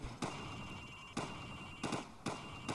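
Rifle fired from the hip in Call of Duty 4: Modern Warfare, four sharp, spaced gunshots at an uneven pace, each a bright crack over a steady low game background, no talking.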